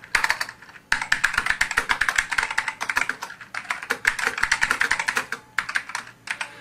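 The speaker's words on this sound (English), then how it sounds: "I just typed in a line of text that says medical alert." Text is typed on a computer keyboard in quick, continuous bursts of close, crisp key clicks, with one short pause near the start and no voices.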